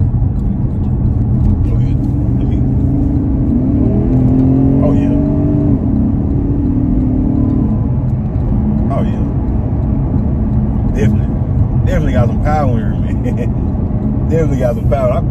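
A 2015 Porsche Panamera GTS engine pulls hard, rising in pitch as it accelerates through traffic, then settles into a steady cruise while someone talks over the engine noise throughout.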